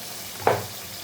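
Goat meat drops into hot oil and cooked-down spice paste for a Bengali mutton curry, giving one short sizzling burst near the pan before it settles back to a low, steady fry.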